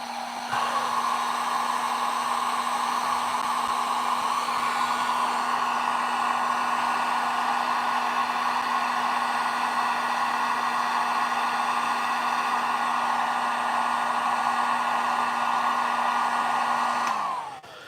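A hair dryer blows steadily at close range for about seventeen seconds, warming a figure during a painting session; the loud, even whoosh switches on and cuts off cleanly with no talking.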